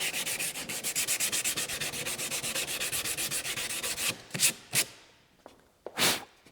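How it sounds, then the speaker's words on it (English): Sandpaper rubbed by hand across a routed bullnose wood edge in quick, even back-and-forth strokes, close and steady, then a few slower separate swipes with pauses between them. "A lot of times you can just hit it with some sandpaper across the front."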